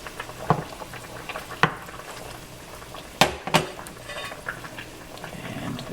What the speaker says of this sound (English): And we'll just let it simmer nicely.